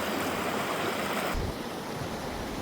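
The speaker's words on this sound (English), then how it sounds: "It's got an active bubbling creek going down it that you can cool off on a hot summer's day" A bubbling creek flows at Tuttle Creek BLM campground, a steady close wash of rushing water that softens slightly partway through, with no voices.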